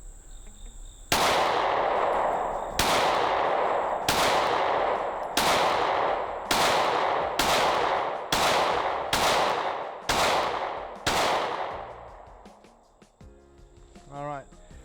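Pistol shots from Glock 43/43X and Smith & Wesson handguns crack out in a string of about ten loud, evenly spaced reports, each ringing off briefly, followed by quiet and a short voice at the end.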